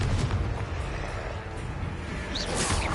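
A Confringo fire spell explodes during a boss fight in Hogwarts Legacy on PS4, heard as a dense, continuous roar of booming blasts and rumble that fills the whole moment, loud and close, with a brighter burst near the end.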